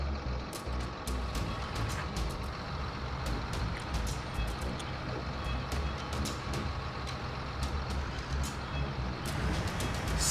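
Farm truck driving in Farming Simulator 19, a steady engine drone with repeated sharp reversing beeps and hissing clicks over the whole stretch.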